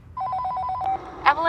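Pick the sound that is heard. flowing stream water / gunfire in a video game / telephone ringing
telephone ringing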